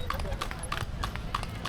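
Horse pulling a cart in Palani clip-clops in a steady, even rhythm of sharp hoof strikes close by, with people talking over the hoofbeats.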